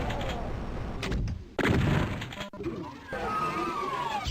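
Video game gunfire while shooting enemies: several sharp bursts and cracks with a loud blast around the middle, heard among game sounds and a player's talk.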